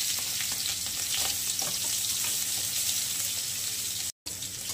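Mustard seeds and green chillies sizzle in hot oil, a steady close crackling hiss with scattered pops that runs unbroken apart from one brief dropout near the end.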